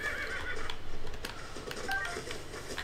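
A horse in The Legend of Zelda: Tears of the Kingdom gives a short neigh amid steady game sounds, moderately loud and continuous over a few seconds.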